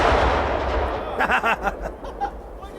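A Tannerite charge set off by a rifle shot blows up a bicycle, giving a heavy boom followed by a string of rolling echoes and pops across the distance.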